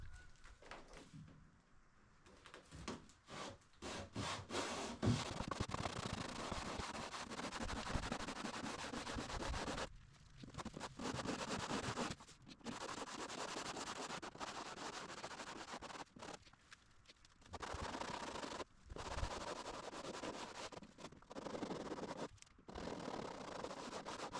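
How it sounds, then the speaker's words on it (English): Steady scratchy rubbing of sandpaper in long strokes along the inside edge of a kayak, with a few brief pauses between passes, close up. "give it a little sanding on the inside edge, just to make sure it's nice and clean"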